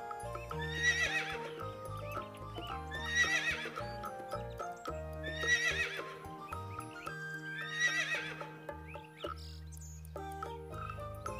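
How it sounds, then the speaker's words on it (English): Repeated horse whinnies ring out over a bright nursery-song backing, four rising neighs spaced a couple of seconds apart, with clip-clopping hooves and musical tones running underneath. "H for horse."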